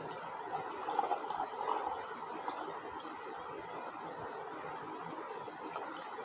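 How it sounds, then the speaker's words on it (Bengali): Cold water poured steadily into a glass of sherbet, a soft, continuous low splash and trickle that stays faint and even throughout. "তারপর আমি উপর থেকে দিয়ে দিলাম ঠান্ডা ঠান্ডা জল।"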